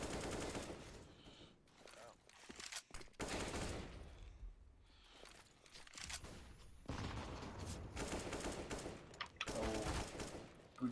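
Dense bursts of rapid gunfire from a first-person shooter esports match, loud and continuous with short gaps, rattling fusillades layered over faint voices.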